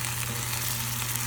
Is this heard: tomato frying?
yes